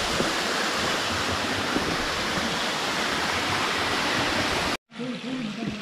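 Water pours out at Veyyinuthula Kona falls near Kadapa in a loud, constant roaring rush. It cuts out briefly, then returns more faintly under a low voice.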